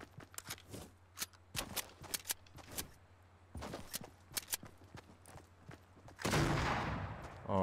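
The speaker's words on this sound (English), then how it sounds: "Are you shooting me with a shotgun?" Shotgun blasts and other gunfire in a Fortnite match, heard as sharp broadband cracks spaced irregularly across the stretch, with game footsteps between them and a louder burst of noise at the end.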